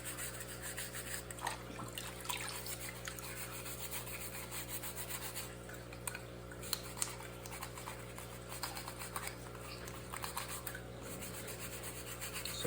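Scrubber brush cleaning a fish tank filter, a steady close rubbing and scratching that continues throughout, with occasional small knocks over a constant low background hum; no talk.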